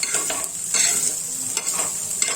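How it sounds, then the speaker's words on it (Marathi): Peanuts and chillies sauté in hot oil over low heat, a continuous close sizzle broken by repeated scraping stirs of a spoon through the pan. "याला आपण असं तेलामध्ये हे परतवून घ्यायचं आहे"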